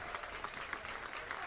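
A baseball crowd at a college game in Atlanta claps and cheers steadily, faint and distant, a continuous wash of applause.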